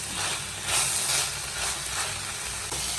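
Cluster beans fry in a pan, a steady soft sizzle and hiss with gentle swelling crackles, fairly quiet and close, with no voices.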